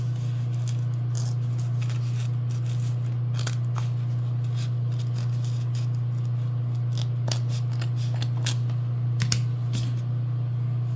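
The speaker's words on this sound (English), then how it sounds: "If my scissors will even go in there." Scissors snip through foam for a junk journal cover in quick irregular cuts, close and crisp over a constant low hum, with no talking.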